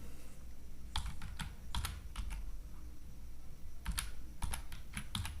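Quick bursts of keyboard typing, with clustered key taps separated by short pauses, sound close and fairly quiet as someone types a search.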